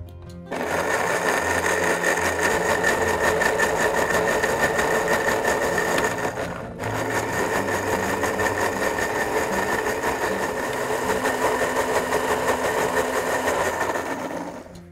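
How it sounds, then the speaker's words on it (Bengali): Soaked poppy seeds and cashew nuts are ground in a kitchen grinder for a cooking dish, a loud steady motor whir running almost continuously with a brief stop and restart midway, no talking. "তার সাথে আমি কাজু বাদাম এটা বেটে নিব"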